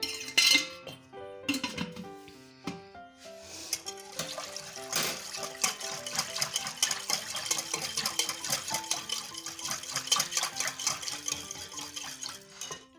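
Flour for homemade donuts mixed by hand in a bowl, with close, steady clinking and scraping of a utensil against the bowl, some louder knocks early on, no talking.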